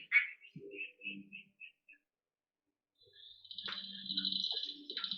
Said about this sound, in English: that's a quacking frog. It sounds like a duck.